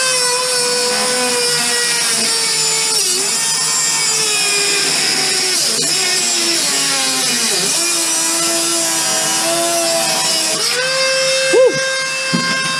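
A rotary tool such as a Dremel cutting through a spinning bolt on a vehicle being prepped for sandblasting, a loud steady high-pitched whine with shifting pitch dips, running close and continuous throughout.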